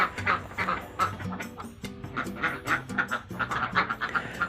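Laying ducks on a duck farm quack in a busy, overlapping chorus, many birds calling close by in rapid irregular bursts.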